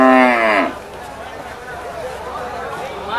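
Cattle at a busy livestock market: one loud, drawn-out moo opens, followed by the murmur of people talking and crowd noise.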